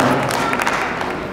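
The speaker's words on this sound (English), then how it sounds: "Please give them a huge round of applause." An audience at a school event applauds students, a dense continuous patter of clapping from many hands at moderate distance.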